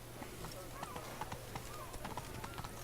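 Horse galloping in The Witcher 3, a steady run of hoof clip-clops over a constant low game drone, moderately loud with no talk.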